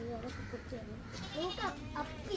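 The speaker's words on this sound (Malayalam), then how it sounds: "ഫസ്റ്റ് ഇതാണ് ഇവിടുത്തെ ആടുകൾ" Goats bleat several times close by on a dairy farm, short wavering cries overlapping one another above a low murmur of background voices.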